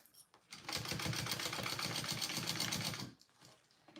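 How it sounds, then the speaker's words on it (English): A sewing machine stitches a seam on a Hydro Pouch in one steady, fairly loud run of a little over two seconds, starting and stopping abruptly with quiet on either side and no talking. "And then we want to sew that at our full seam allowance there."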